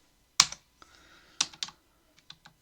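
Key presses on a computer keyboard during a C programming session, a few sharp taps spread out with quiet gaps between them, close and alone with no voice.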